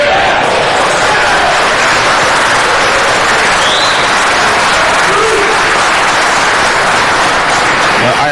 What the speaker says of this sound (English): I appreciate the applause and support.